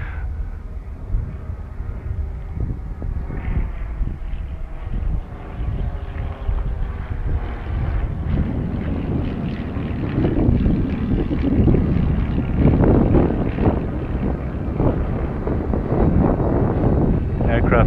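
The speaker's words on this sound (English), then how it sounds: "Wind's coming from behind now." Steady outdoor wind buffets the microphone with low rumble and gusts that strengthen midway, over an open field where a small drone flies and flags blow; a faint aircraft hum may sit beneath.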